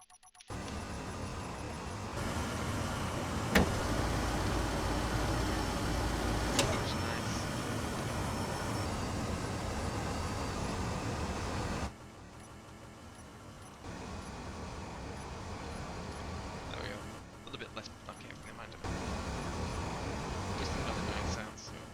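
Engines of an aircraft in the game Space Engineers drone loud and continuous for about twelve seconds, then drop to a lower, uneven hum with brief surges.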